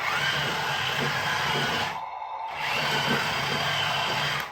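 Electric motor of a battery-upgraded RC loader whining steadily as it turns, a close, continuous buzz that drops out briefly midway before resuming.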